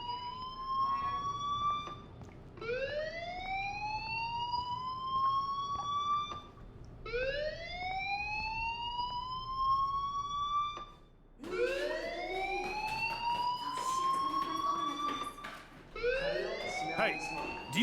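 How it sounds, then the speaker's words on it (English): A fire alarm in the video game Life Is Strange sounds as repeated rising electronic whooping tones, each sweep climbing for a few seconds before restarting, loud and steady, with a few faint background clicks. "Hey, do you hear that fire alarm?"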